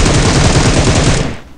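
Automatic gunfire in the mobile battle-royale game PUBG Mobile: rapid, loud, sustained bursts of shots rattling close by, cutting off abruptly near the end with no talking.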